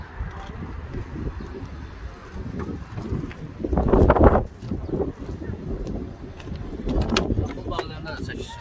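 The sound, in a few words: Volvo engine fan running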